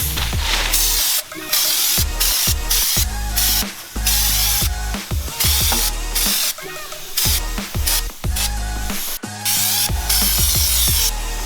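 Spray paint hisses onto a Jeep XJ roof rack in short repeated bursts, loud and close, with brief pauses between passes and no talk.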